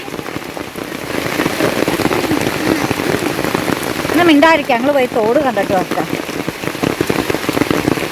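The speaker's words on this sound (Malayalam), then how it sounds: "നല്ല മഴയാണ് കേട്ടോ മഴ എന്ന് വെച്ചിട്ടുണ്ടെങ്കിൽ തകർത്തു പെയ്യണ മഴയാണേ" Heavy monsoon rain pours down in a dense, steady hiss with people talking over it and a few brief squeaky vocal sounds midway.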